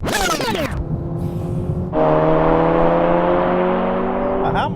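Hot hatchbacks, including an AMG A35, BMW M140i with a 3-litre six-cylinder, Golf R, Audi S3 and Focus RS, launching in a drag race. Engines rev hard and climb through a gear change, loud and close, with brief voices.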